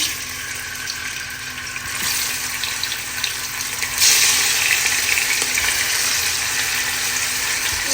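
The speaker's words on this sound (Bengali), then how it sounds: "এখন ইলিশ মাছগুলো ভেজে ফেলি" Hilsa fish frying in a home kitchen pan gives a steady, fairly loud crackling hiss that lasts throughout and grows a little denser partway through, with faint watery clatter underneath and no talking.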